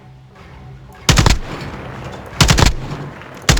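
Loud bursts of automatic gunfire in a Modern Warfare Plunder match, three separate volleys over a steady low background, the first and second each rattling for a fraction of a second and a final short burst at the end.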